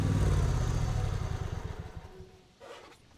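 A motorcycle engine runs loud and close with a low, pulsing rumble, gradually fading and dropping off toward the end.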